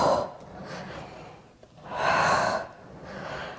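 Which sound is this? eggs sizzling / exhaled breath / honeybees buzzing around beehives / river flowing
exhaled breath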